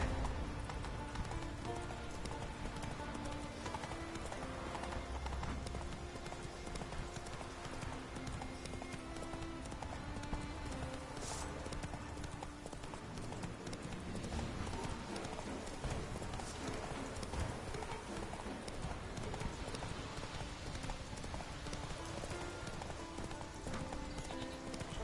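Roach, a horse in The Witcher 3, gallops steadily with continuous clip-clop hoofbeats over a dense game soundscape, loud and unbroken for the whole stretch.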